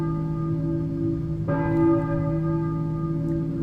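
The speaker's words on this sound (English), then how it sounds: "I hear a church bell, maybe. Who is ringing the bell?" A single church bell in the video game Silent Hill 1 strikes once, ringing out loud and clear with a long humming decay, over a steady droning background tone.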